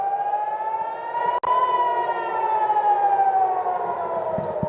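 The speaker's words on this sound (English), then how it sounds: "Those are the air raid sirens." Air raid sirens wail over Tel Aviv, a loud, sustained rising-and-falling civil defense tone filling the air with a brief sharp click partway through, no voices.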